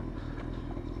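A motorcycle rumbles along at steady speed, its engine and wind roar loud and close throughout a brief moment of riding.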